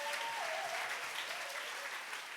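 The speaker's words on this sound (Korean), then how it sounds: "박수 한번 쳐주시길 바랍니다" A church congregation at a Friday worship service applauds in a steady, dense wash of clapping that sounds somewhat distant and soft, with faint voices mixed in.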